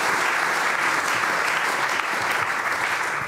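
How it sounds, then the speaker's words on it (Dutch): An audience in a hall gives sustained, even applause, a dense wash of clapping from many hands. "En een welverdiend applaus."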